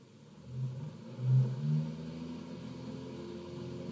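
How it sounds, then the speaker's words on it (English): A DeLorean engine starts up in a Microsoft Flight Simulator 2020 VR mod: low rumbling swells in a couple of revving surges, then settles into a steady idle drone with no talking. "let's start the engines."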